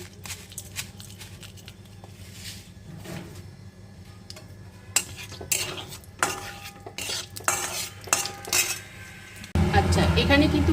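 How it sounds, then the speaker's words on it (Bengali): Dried red chilies and panch phoron tempering in hot mustard oil, with scattered clinks and scrapes of a utensil against the pan, growing busier toward the end, where a louder sizzle swells in the last second. "আমি সর্ষের তেল দিলাম ফোড়ন হিসেবে দেব শুকনো লঙ্কা আর দিয়ে দেব একটু অল্প পাঁচফোড়ন"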